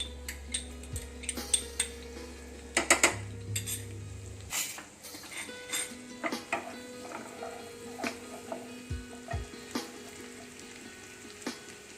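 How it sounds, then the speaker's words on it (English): Garlic sweating in a pan for chicken lasagna: a steady, close sizzle of frying, with spoon scrapes and clinks of utensils against the pan throughout and a low hum that cuts out partway. "Now first thing we will add is garlic. Here we don't have to brown the garlic. We just have to sweat it."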